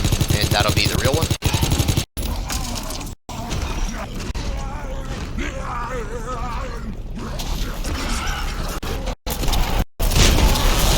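Gunfire in COD WW2 Zombies on The Final Reich map, aimed at shooting down the Zeppelin: dense bursts of rapid shots and mechanical clatter fill the whole stretch, broken by a few brief silent cuts.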